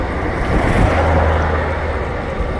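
City traffic heard while riding a bicycle through Lisbon streets: a steady, loud roar of passing cars and engines with heavy wind buffeting the microphone throughout, no talking.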